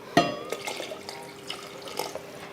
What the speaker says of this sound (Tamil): இப்போ தண்ணி இன்னும் கொஞ்சம் சேர்த்துக்கலாம்